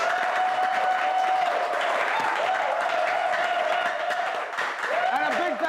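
Steady applause from a crowd fills the space, with a sustained tone running underneath and a few voices briefly rising near the end.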